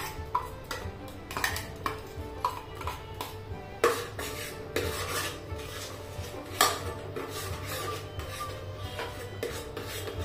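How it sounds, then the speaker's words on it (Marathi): Tomato and pea gravy is stirred and sautéed in a pan over medium gas, with irregular scraping and clinking of a spoon against metal over a constant low background hum, no voices. "याला पण छान मिक्स करून घ्यायचंय, म्हणजे चांगला 2 ते 3 मिनिटांसाठी परतून घ्यायचंय."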